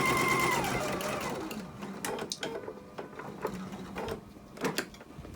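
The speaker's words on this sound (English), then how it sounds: "put another locking stitch or a reversed anchoring stitch, and then cut your thread" A sewing machine stitching a pink potholder runs steadily at close range, its fast whirring hum fading after a second into quieter clicks and brief mechanical taps.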